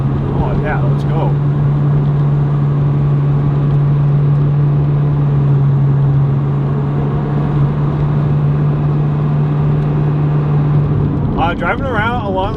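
MazdaSpeed 3 on coilovers rolling down a bumpy road, a loud continuous engine drone and road rumble heard from inside the cabin, with a voice talking over it near the end.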